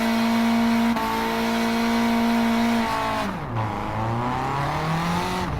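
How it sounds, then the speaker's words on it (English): A car in Gran Turismo doing a burnout in second gear with the handbrake held: a loud, steady high-revving engine tone that drops and wavers midway, then climbs again, close and alone without speech. "Can I do a burnout?"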